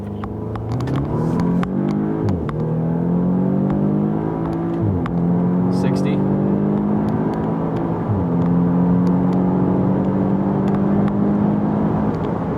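A 2015 Audi S3 launches hard on a straight road, its engine revving up through several gears with brief dips at each shift, loud and close throughout.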